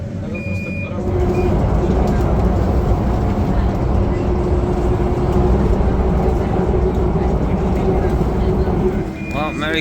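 Loud, continuous rumbling and rattling inside a moving train near Venice, Italy, with a steady mechanical drone and a brief high tone at the start and end.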